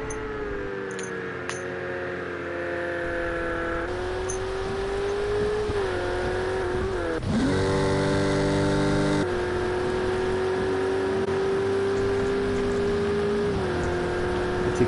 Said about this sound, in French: ça pleut assez fort.